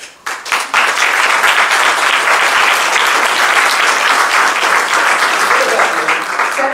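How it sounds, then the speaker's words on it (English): A room of League of Women Voters members claps for league officers, starting with a few scattered claps and swelling into steady, loud applause that holds until the end. "we can give them some applause"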